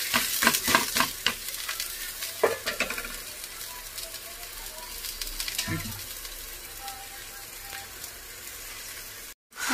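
An aloo paratha fries in oil on a hot pan at home, sizzling steadily with a few sharp crackles and clinks early on, then settling into a softer, continuous hiss before a brief cutoff at the end.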